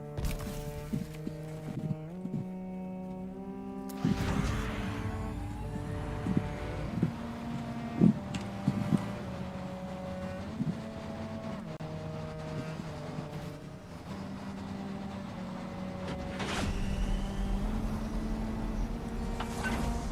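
A vehicle in Dune Awakening drives with a steady engine hum and shifting pitch, broken by a few scraping skids and sharp clicks, moderately loud and continuous with no voices.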